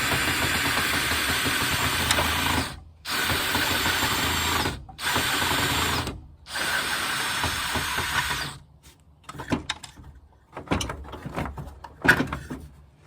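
A power drill whirs in several sustained bursts separated by short stops, then gives way to clicks and clattering mechanical handling.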